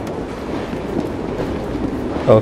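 A train rumbles steadily past in the video game Assassin's Creed Syndicate, a continuous rolling drone with a brief louder swell near the end and a short spoken word over it.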